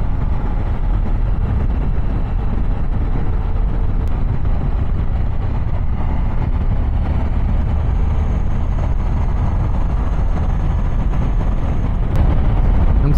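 A Suzuki V-Strom 1050 SE motorcycle rides along, its engine a steady low drone under heavy wind rush, continuous and unbroken throughout.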